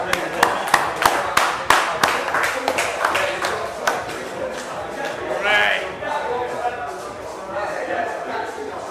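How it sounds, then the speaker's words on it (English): An audience at a Club Torture Inter-Club Championship match breaks into applause, with sharp claps at first that settle into steadier clapping as a commentator talks over it. "Big round of applause, Murray Whitehead."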